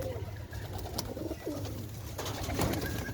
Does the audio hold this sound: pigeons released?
yes